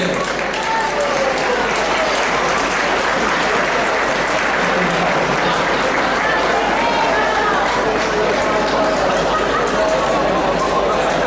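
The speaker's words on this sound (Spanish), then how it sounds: "fuerte el aplauso para Indonesia, presente" A crowd at a gamelan and Argentine folklore music event applauds loudly for Indonesia, a dense, continuous roar of clapping and cheering that holds steady throughout.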